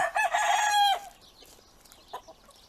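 Free-range farm chickens cluck and squawk loudly up close, one drawn-out call followed by scattered softer clucks.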